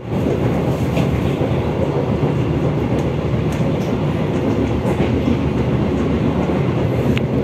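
A train rolls along the rails with a constant loud rumble, faint rhythmic clicks of wheels over track joints heard from inside a panoramic-class carriage of the Papandayan train between Garut and Jakarta.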